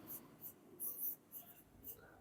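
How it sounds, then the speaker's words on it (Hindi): Handwriting on a board or page during a Hindi grammar lesson: soft scratchy strokes in a few short bursts, quiet and close, with faint background hiss. "यहां पे मैं लिख देती हूं"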